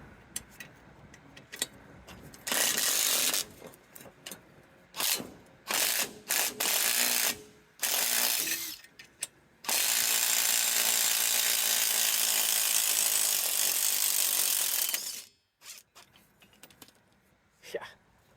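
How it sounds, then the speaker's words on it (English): Power tool, likely an impact wrench, loosening a suspension bolt on a Mercedes, firing in several harsh bursts of varying length with short gaps, then a long sustained run before stopping, close and loud. "And this is always a touch scary, so let's use power tools."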